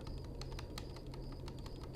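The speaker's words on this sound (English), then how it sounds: "I'm just gonna put my controller next to my mic so people in the future can hear how rapidly I'm clicking against the" Video game controller button clicked rapidly right beside a microphone, a fast, even stream of sharp plastic clicks, close and fairly quiet, with no talk.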